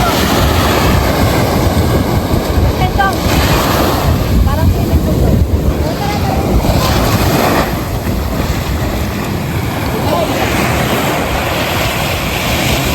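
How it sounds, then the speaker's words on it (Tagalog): Powerful surf pounds steadily at Tibu Tidal Pool in Casiguran, Aurora, a loud, unbroken wash of crashing waves mixed with gusty wind rumble on the microphone, easing slightly toward the end. "Ang lakas ng alon dito babaya."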